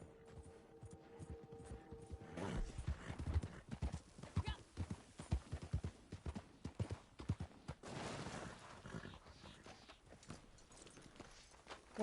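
Two horses walk, their hooves clip-clopping in a steady, uneven patter that grows busier after the first couple of seconds. The sound is fairly close but fairly quiet overall.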